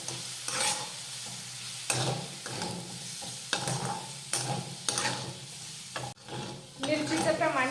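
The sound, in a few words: green chilies sautéing in a pan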